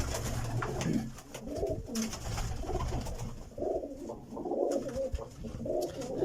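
Pigeons coo in soft, rolling bursts, several calls overlapping at moderate distance, with faint background noise between them.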